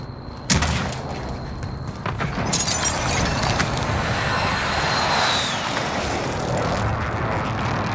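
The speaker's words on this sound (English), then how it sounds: "Enemy precision airstrike." An enemy precision airstrike in the video game Warzone, with a sharp blast near the start followed by a loud roaring rumble of aircraft and explosions that builds and fades, while a voice briefly speaks.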